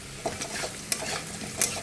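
Potatoes fry in oil with a pinch of turmeric and are stirred, giving a steady close sizzle broken by a few sharp scrapes of the spoon against the pan; no one speaks.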